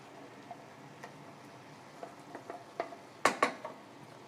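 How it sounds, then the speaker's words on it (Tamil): Vegetables being mixed with ground coconut masala for Chettinad-style veg biryani: sparse, soft scrapes and light clinks of a spoon against the pan, growing sharper and louder toward the end. "அடுத்தது மசாலா காய் எல்லாத்தையும் நல்லா கலந்து விடுவோம்."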